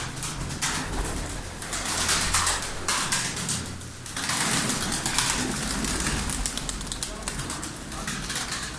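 Cooing from a crowded pigeon loft of Malatya and double-crested pigeons carries on continuously nearby, layered over a rough rustling wash with no voices.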